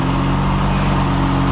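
A Honda Civic EG's engine hums at a steady, close idle in slow traffic, with a continuous low drone and no one talking.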